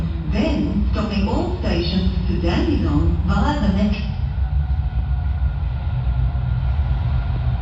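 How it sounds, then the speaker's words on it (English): Melbourne Metro train pulling into platform 2, a loud steady rumble and rail roar with a platform announcement voice over it for the first four seconds, then the train noise continuing alone. "Arriving on platform 2 is your 412 Dandenong train."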